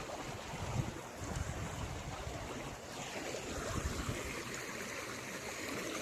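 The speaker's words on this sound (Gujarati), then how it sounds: "વરસાદ ચાલુ જ છે ભાઈ." Steady rain falls outdoors at a farm field, a continuous broadband hiss and patter that rises and falls slightly but never stops, with no voices.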